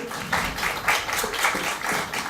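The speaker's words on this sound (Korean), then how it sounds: "네, 박수 한번 부탁드립니다." Audience clapping at a K-pop group's showcase, a short run of moderate applause in uneven bursts from a nearby crowd.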